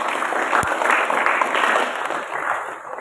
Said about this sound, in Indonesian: Tepuk tangan nomor 1 dulu.